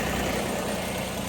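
A tractor engine idles steadily nearby, a continuous low rumble with a constant throb and no voices, heard alone over the short stretch.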